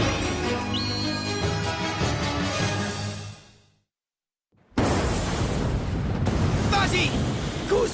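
Cartoon special-attack explosion effect from the Beyblade Metal Fusion Pegasus, a loud sustained roar layered with tonal sound and voices, cutting to a second of silence before a fresh broadband blast surges back at full strength.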